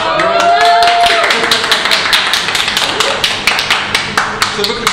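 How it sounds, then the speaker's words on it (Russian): A group of graduates claps at a party, a brisk run of close, sharp hand claps, slightly uneven in rhythm, with a voice heard briefly at the start. "Похлопаем, а?"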